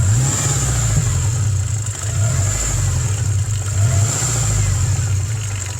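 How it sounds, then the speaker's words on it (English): A Subaru engine that puffs heavy blue smoke, running during compression troubleshooting, holds a loud, steady mid-pitched drone that swells slightly as it is revved a couple of times, with no talking over it. "Rev it a little."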